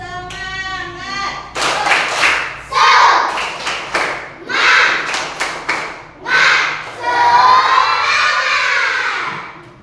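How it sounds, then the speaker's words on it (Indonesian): A class of students performs the rhythmic 'tepuk semangat' spirit clap together, bursts of patterned clapping alternating with loud group chanting and shouted voices. "Coba tepuk semangat dulu sama-sama."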